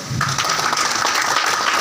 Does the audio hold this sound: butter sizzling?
no